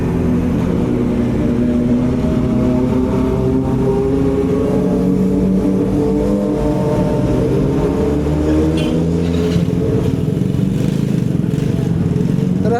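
Several motorcycles roll past in a steady, loud engine drone with overlapping rising and falling tones, close by and continuous throughout.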